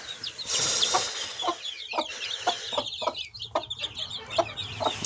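A broody hen clucks repeatedly in short, close bursts, with soft chirping birds in the background.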